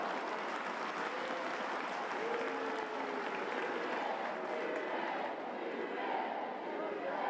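Home crowd applauding at a women's football match between Manchester United and West Ham United, a steady wash of clapping and stadium noise with a commentator talking over it throughout.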